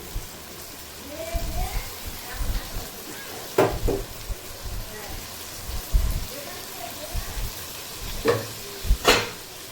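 Mutton sautéing in a pan with cumin and chili paste, a steady sizzle broken by sharp scrapes and knocks of a spoon stirring, with a faint voice now and then in the background.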